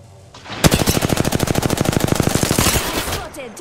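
Rapid automatic gunfire in the Apex Legends video game, a loud close burst of about thirty evenly spaced shots lasting around two and a half seconds.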